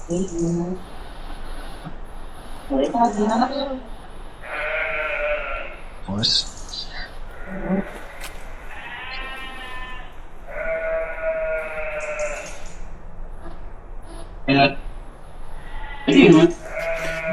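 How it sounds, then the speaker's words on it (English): Several sheep bleat repeatedly, some calls long and wavering, others short, with a person talking quietly underneath. "Those sheep have certainly got something to say"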